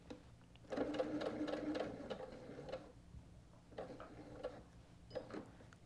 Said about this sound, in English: we're going to sew about 1/8 of an inch away from the edge